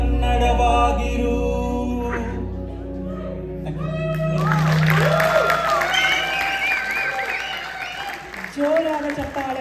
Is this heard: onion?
no